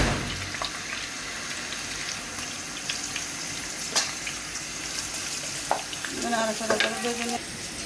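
Garlic, onion and tomato fry in a pan with a constant close sizzle, broken by occasional clinks of a stirring utensil and a brief watery burble near the end.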